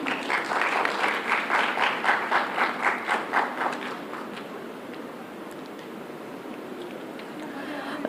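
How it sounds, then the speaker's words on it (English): An audience at a national conference for women in police applauds with steady, rhythmic clapping that thins out and fades into room noise after a few seconds. "she really needs an applause for what she had done"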